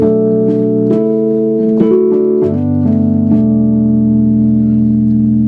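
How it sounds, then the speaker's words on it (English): Nord Stage 2 keyboard playing an electric piano voice: sustained chords with several struck changes, warm and close, held tones ringing between attacks, no talking. "We have electric pianos."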